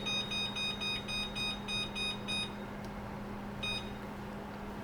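An oven timer set to ten minutes beeps in a quick run of evenly spaced high electronic tones, close and clear over a low steady hum, with one last beep after a pause.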